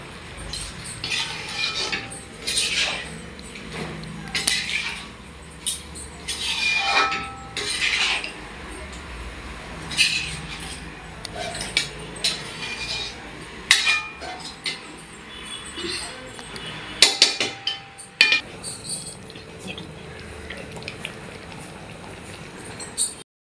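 A spoon gently scrapes and stirs a thick fish thokku in a pan, with intermittent metallic clinks and soft bubbling of the simmering curry at close range, with no voices.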